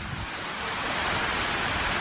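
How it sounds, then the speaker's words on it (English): Water rushing down a sluice weir into a stream beyond, a steady broadband roar that swells slightly and continues without pause, close and loud. "looking down the sluice weir, or whatever you want to call it, water race,"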